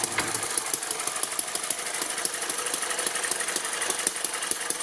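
A small Eachine ET7 hit-and-miss model engine runs steadily close by, giving a quiet, even stream of rapid ticking and clattering beats, with its little exhaust valve opening and closing and no voices over it.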